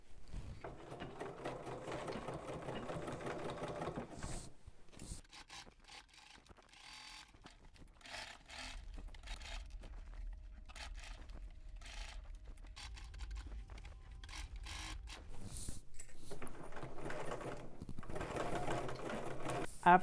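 A domestic sewing machine edge-stitching a garment armhole runs in several close, whirring bursts, with quieter pauses of fabric handling and rustling between runs.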